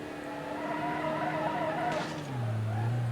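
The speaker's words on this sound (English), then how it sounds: "Get some nice drifting action." A Volvo V60 sliding through a corner in the BeamNG.drive driving game, its engine droning steadily while tires squeal and skid, shifting to a lower engine note near the end, loud and close with no talking.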